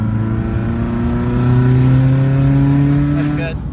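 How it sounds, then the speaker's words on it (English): A tuned 2015 Subaru WRX STI with a Stage 2+ setup and external wastegate pulls hard at full throttle in gear, its engine note climbing steadily and loud throughout before easing off near the end. "just mash it full throttle for like 5 seconds"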